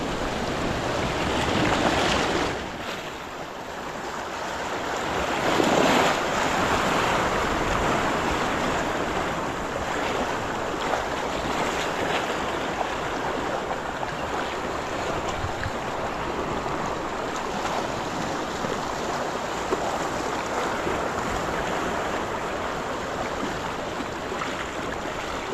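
Sea waves wash steadily onto shoreline rocks on the Konkan coast during a fishing outing, a loud, continuous broadband roar with a heavier surge a few seconds in, no voices.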